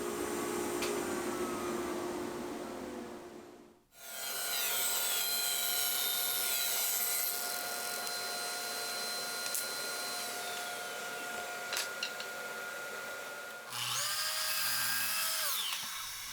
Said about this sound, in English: taken over to the router, trimmed up, and then repeat that process 6 times to finish off all 6 legs